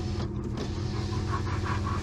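A car's electric power window runs in a steady whirring motor hum for about two seconds, close and alone with no talk.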